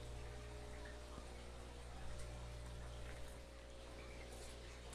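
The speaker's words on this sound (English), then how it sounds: "I can hear that is that water is going into this tank" Water trickles and hisses steadily into a tank of a six-stage RO/DI filter system, a faint, even flow over a low mechanical hum, with occasional small drips and knocks.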